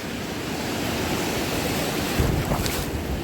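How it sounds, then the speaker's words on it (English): Ocean surf rolls and breaks onto a fishing beach under steady wind, a continuous broad wash with a slightly louder surge of a breaking wave near the end, no talking. "See, the waves are now pressing right over that trough area."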